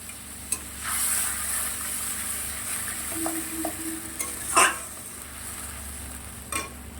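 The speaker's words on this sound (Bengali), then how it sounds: "বেশ কিছু সময় এটা কষিয়ে নেব মশলাটা।" A ground paste of white cumin seeds fries in a pan for a puti fish dish, sizzling softly and steadily while a spatula stirs and clinks against the pan now and then, with no voices.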